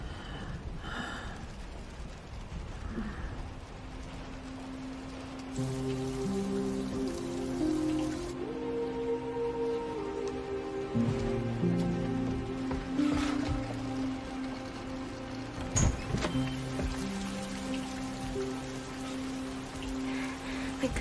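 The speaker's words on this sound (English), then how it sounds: "It's starting to rain." Rain begins falling in a steady, soft hiss of drops, heard throughout under sustained music.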